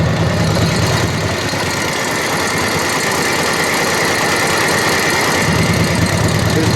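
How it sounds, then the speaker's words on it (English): A 1949 Harley-Davidson WL motorcycle with original paint, its engine running at a steady loud idle with a dense, rumbling, continuous throb close by and no talking. "This bike runs so smooth"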